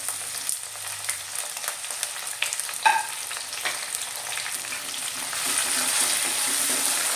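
Onion, ginger, curry leaves and chopped tomato sautéing in a pan for a Kerala-style fish curry, a steady crackling sizzle with occasional stirring clinks, growing slightly louder toward the end.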